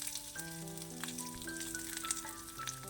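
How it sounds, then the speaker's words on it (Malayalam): Thinly sliced shallots and garlic frying in oil for a Malayalam-style beetroot curry, giving a steady close sizzle with faint crackles and no talking. "ഇനി ഉള്ളി നല്ലവണ്ണം വഴന്ന് വരണം, കൂടെ തന്നെ ആ വെളുത്തുള്ളിയും മുരിഞ്ഞ് വരണം"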